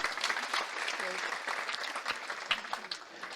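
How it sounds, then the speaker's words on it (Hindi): Audience applause at a spiritual retreat centre gathering, a continuous patter of many hands clapping, moderately faint and steady, with a few sharper claps standing out. "ताली बजाइए।"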